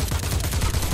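Gunfire from a handgun in the horror video game The Persistence, a dense one-second burst of loud, rapid repeated shots with low booming thumps, heard alone without talk.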